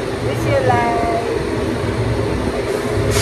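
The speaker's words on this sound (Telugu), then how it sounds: "ఇక్కడ ట్రైన్లో ఉన్నాము. సో యాక్చువల్గా ఇది పద్మావతి ఎక్స్ప్రెస్." Inside a moving Padmavati Express passenger train bound for Tirupati, with a low steady rumble of the carriage and wheels and a voice talking over it.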